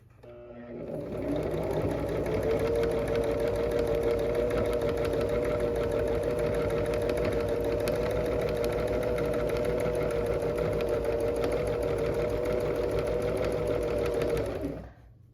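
Sewing machine stitching free motion quilted scallops, a fast steady whirring hum with rapid needle chatter that starts after a second, runs evenly for about thirteen seconds, then stops.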